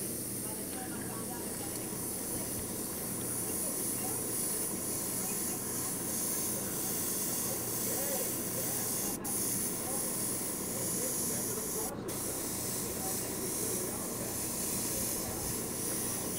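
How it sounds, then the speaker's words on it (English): An Iwata Eclipse HPCS airbrush sprays a thick clear coat onto a Gunpla model kit, giving a steady, close hiss that runs unbroken for the whole stretch. "getting a general thick spray on the kit"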